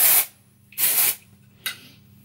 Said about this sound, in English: Just spray a bit of dry shampoo